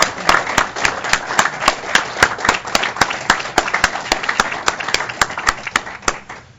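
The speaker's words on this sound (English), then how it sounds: "And a round of applause." An audience at a technology advisory council meeting claps in a steady, evenly spaced beat of sharp hand claps, with a softer room wash behind them for several seconds.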